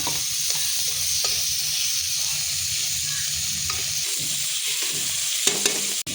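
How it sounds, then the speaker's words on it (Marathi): Tomatoes with turmeric sauté in a hot pan for a spicy horse gram curry, producing a loud, continuous sizzle with stirring and a few metallic clinks and knocks toward the end. "टोमॅटो पण मस्त असं परतून घ्यायचा"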